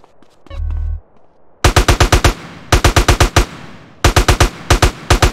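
Rapid automatic gunfire from Grand Theft Auto San Andreas, loud, close bursts of five or six shots separated by short pauses, after a brief low hum.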